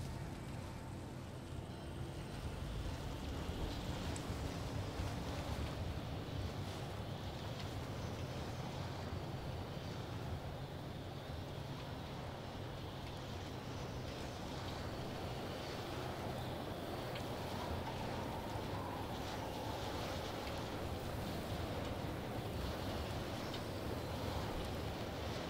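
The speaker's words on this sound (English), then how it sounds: "Windy." Wind in the video game Pacific Drive, a steady faint rushing roar that stays broad and even throughout with no talk.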